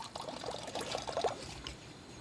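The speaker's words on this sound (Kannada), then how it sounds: "ಬಾಂಡ್ಲಿ ತಂದಿದ್ದೀವಿ, ವಾಟರ್ ಹಾಕ್ತಾ ಇದ್ದೀವಿ" Water poured from a can into a frying pan on a camping stove outdoors, a steady close trickle and splash lasting about two seconds with no voices.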